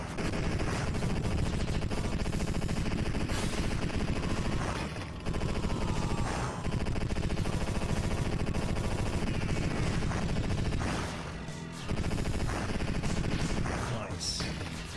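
Rapid bursts of gunfire from a more powerful gun in an arcade shooting game, loud and nearly continuous, broken by a few brief pauses, with a voice audible at times underneath.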